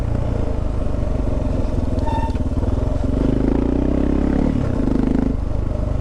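A dual sport motorcycle rides off-road on a trail, its engine thumping loud and close with steady pulsing rhythm and a throttle swell midway, plus light clatter from the bike.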